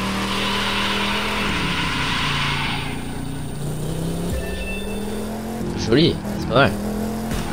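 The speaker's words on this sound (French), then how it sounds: "Bon, là, j'ai tenté de faire un joli petit drift." A car drifting in The Crew 2 racing game: a sustained engine drone with a brief tire squeal burst near the end, while someone talks over it.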